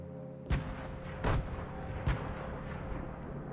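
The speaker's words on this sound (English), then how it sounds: "throw 3 nades or like something like that, split with your duo, and you will have the perfect grenade" Grenade explosions in the video game Fortnite: three deep, booming blasts spaced under a second apart, loud over a low rumbling background, no talking.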